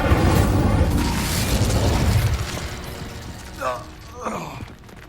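An Incendio fire spell cast in the Hogwarts Legacy video game roars as a loud, sustained burst of fiery rushing noise, fading after a few seconds into quieter whooshes and faint magical chirps.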